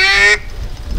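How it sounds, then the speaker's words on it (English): A nervous duck on the water at Reelfoot Lake gives a loud, nasal honking call held for a moment, then cuts off abruptly, leaving faint low background noise. "that's a nervous duck on the water"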